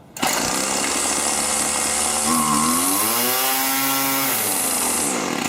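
Gas weed eater trimmer engine pull-started, catching at once and running loud and close with a buzzing two-stroke drone, revving up and settling back in pitch midway.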